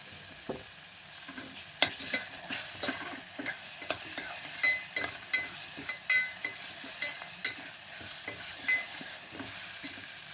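Tomatoes frying in a pan with a soft continuous sizzle, broken by repeated scraping and stirring strokes of a spatula that come in an irregular rhythm, close and moderately quiet, with no talking.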